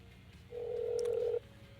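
A single steady electronic phone ring tone on speakerphone sounds for under a second, clear and moderately loud over a quiet low background hum.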